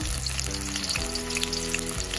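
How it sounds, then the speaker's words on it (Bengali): Chopped onions crackle and sizzle steadily in hot oil in a pan, a dense, close frying hiss running throughout with low hum beneath, no voices. "এখানে 1/2 পেঁয়াজ কুচি দিয়ে দেব, দিয়ে লাল করে ভেজে তুলে নেব।"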